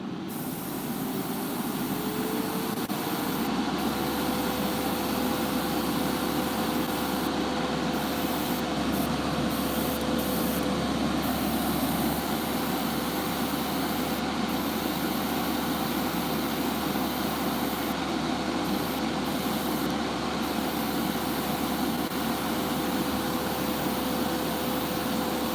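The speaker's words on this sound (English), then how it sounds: "Turn my spray booth on." A spray booth fan runs for action figure priming, starting with a rising whine that settles into a loud, constant motor drone and rushing airflow, steady throughout with no talking.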